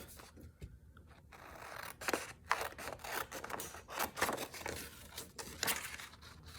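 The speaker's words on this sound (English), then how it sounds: "Let me use my big scissors." Scissors snip through paper in a quick series of crisp cuts, close by and fairly quiet, with light rustling between strokes.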